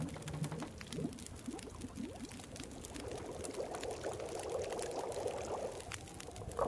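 A reishi mushroom cooks over a fire in The Long Dark survival game, with quiet, steady bubbling and pouring water sounds and a few soft clinks scattered throughout.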